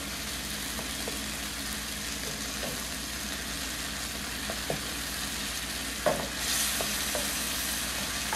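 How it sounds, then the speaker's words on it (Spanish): Ingredients for chickpea croquettes filled with shrimp and cheese sauté in a pan, a steady close sizzle with scattered light clicks of a stirring utensil and a brief louder scrape near the end, no voices. "Seguimos sofriendo y no son sino como 2 minuticos sofriendo"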